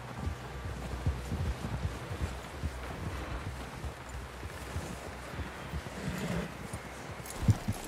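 Horse hooves clip-clop in Red Dead Redemption 2, a soft, fairly quiet rhythmic plodding over a windy, noisy outdoor background with no talking.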